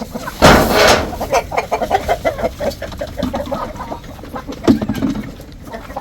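Full-grown Sebright chickens clucking at close range on a farm, a burst of loud squawking near the start followed by a steady run of short, overlapping clucks from several birds.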